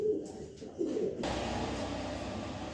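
A BRP FC club pigeon coos in a loft, a short low warbling coo close by, followed by steady broadband background noise.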